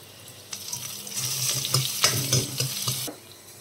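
Crushed garlic hits a hot pan and sizzles sharply with stirring clatter for about two and a half seconds, then the frying dies back to a quieter hiss.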